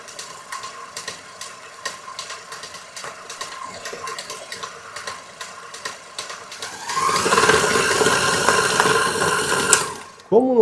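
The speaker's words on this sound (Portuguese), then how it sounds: "eu posso botar a batedeira na velocidade máxima" A stand mixer beats gluten-free baguette dough with xanthan gum and vinegar, first ticking and clattering at lower speed, then rising to a loud, dense whirring roar at maximum speed for several seconds before cutting off abruptly.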